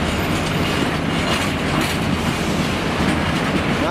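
A train rumbles steadily through Cardiff Central station on a nice day, its continuous broadband roar and rhythmic clickety-clack of wheels on rail staying loud and close throughout.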